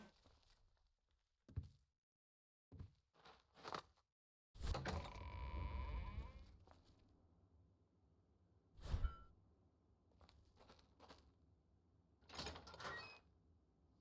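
Short bleats of sheep in the video game Oblivion sound in scattered bursts against near silence, with a longer rustling noise partway through.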